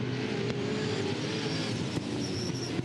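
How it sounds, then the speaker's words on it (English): V8 touring race car accelerating out of the pits at Winton, a steady loud engine drone holding throughout with no break. "leaving the pits at a rapid rate of knots to join the field at the back"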